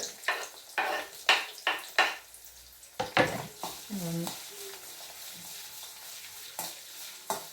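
Garlic and ginger frying in a pan with a spoon stirring, giving a string of loud scraping strokes over a steady soft sizzle, with a short pause and a brief low tone partway through.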